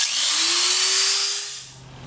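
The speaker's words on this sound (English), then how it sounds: "So I've cut out the piece, okay, with my grinder" A loud, high-pitched grinder whine cuts steadily through a plastic Corvette C4 air box lid, then winds down as the motor slows near the end.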